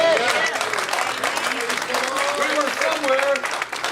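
A church congregation claps along under a preacher's loud voice, steady rhythmic hand clapping blending with talk and crowd noise for the whole stretch.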